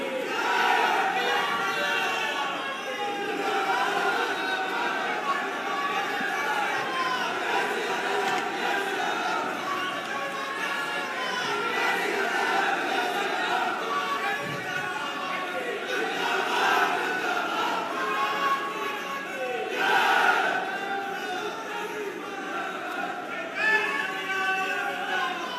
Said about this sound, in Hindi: जोरदार तालियां बजाकर आदरणीय अमित भाई शाह का स्वागत करें।